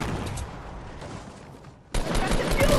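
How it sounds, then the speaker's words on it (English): Gunfire in the video game Fortnite, heard as a rapid burst of shots, then a brief lull, then a louder, denser barrage near the end. "Use the tactical shotgun!"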